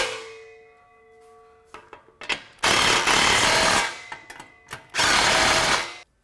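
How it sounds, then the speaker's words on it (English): A power tool drives exhaust clamp bolts on a Mustang GT cat-back exhaust, starting with faint tones and scattered clicks, then two loud, sustained close-range bursts of rattling, whirring impact separated by brief clanks and taps. "we're going to tighten down these bolts"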